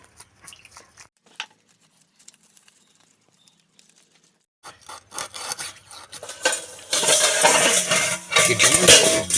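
A knife rasps and scrapes repeatedly while cutting a pond-caught fish through the middle at an outdoor picnic in the Sundarbans, sparse at first, then growing into dense, louder strokes.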